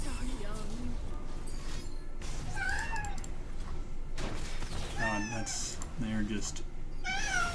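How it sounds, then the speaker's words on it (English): A cat meows repeatedly in short rising and falling calls, close and fairly loud, scattered among a person's speech and light game sounds. "Hey girl, what are you meowing about?"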